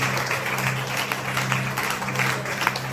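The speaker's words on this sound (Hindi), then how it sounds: "ताली बजाओ, तारीफ करो।" Church congregation clapping in praise during a worship service, steady sustained applause with a low hum of sound underneath, continuous through the short moment.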